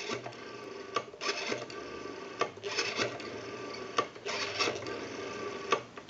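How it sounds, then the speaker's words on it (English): Rotary dial of a Western Electric 500 desk telephone spins back repeatedly, each return a soft whirring ratchet of rapid clicks ending in a sharper tick, close and quiet, several cycles in a row. "We have a nice smooth return on the rotary now."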